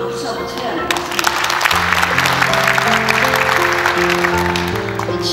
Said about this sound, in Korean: 여러분들 이 시점에서도 박수 한번 쳐야 할 것 같습니다.